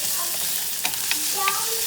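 Onions fry in a pan while being stirred until translucent, a short burst of steady close sizzling with a couple of light scraping taps from the utensil; no voices.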